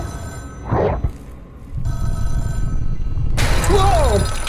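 A telephone rings in the horror video game Captured II, a sustained electronic ring over a rumbling game ambience with thuds, getting louder toward the end.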